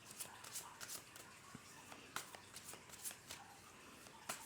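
A deck of tarot cards is shuffled close up before a reading, giving repeated soft riffling bursts and papery flutters in an uneven rhythm.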